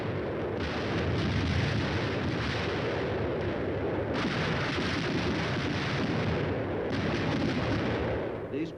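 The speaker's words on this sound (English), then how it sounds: "The air bursts fired by a battalion of 105mm howitzers present a lively show." Air-burst volleys from a battalion of 105mm howitzers in 1950s armored combat, heard as a dense, continuous roar of overlapping blasts and rumbling with no pauses, loud and sustained throughout.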